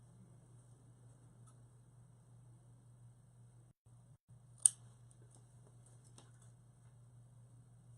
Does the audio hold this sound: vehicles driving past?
no